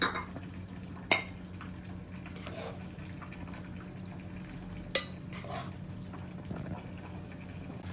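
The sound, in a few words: chicken karahi being dished out from the pan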